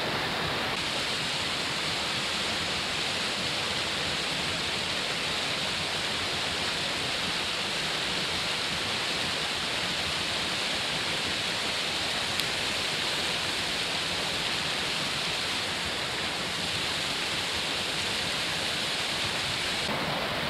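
A waterfall pours aggressively between rocks on a summer walk at Tannahill in Scotland, a dense, unbroken roar of rushing water, loud and steady throughout with no voices.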